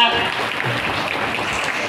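An audience claps steadily and densely at a community family gathering held outdoors by a village mandal, the applause loud and continuous through the short stretch without pause.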